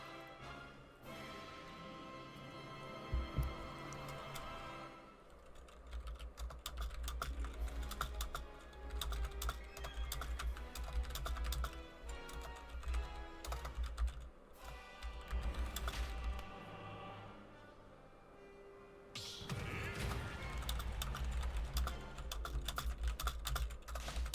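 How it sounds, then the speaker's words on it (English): Rapid, dense keystrokes on a computer keyboard clatter continuously and close up over a low background hum, with only brief pauses between flurries. "I'm a fast typer though, right?"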